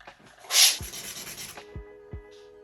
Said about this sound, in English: I'm just going to sand it down and make it a bit smoother.